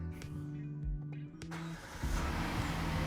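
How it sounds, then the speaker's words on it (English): A 2017 Kia Cadenza, just fitted with a new battery, cranks briefly and catches, its engine settling into a steady idle close by over a low background hum, with a few clicks before the start. "And now we're going to start the car and see if it works."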